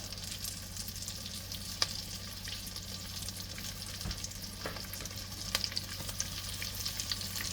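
Salmon patties fry in hot oil with a steady, close sizzle and scattered small pops and spatters, alone without voices.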